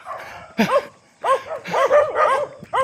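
A dog barks and yips repeatedly at close range along a jogging trail in Isla, San Carlos City, Pangasinan, in short bursts with brief pauses, some calls rising into whiny tones.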